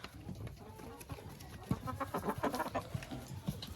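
Hens clucking softly while pecking at apples in a farmyard, low scattered clucks and pecking noises close by, with no voices.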